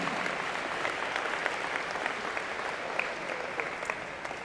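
A convocation audience claps for an engineering and computer science college in a steady, moderately distant wash of many hands that carries on for several seconds with no talking.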